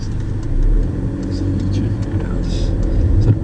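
A learner car pulling away during a driving test on a route in Blackbird Leys, Oxford: a mid-pitched engine hum builds gently with the gas, heard from inside the car under an instructor's speech.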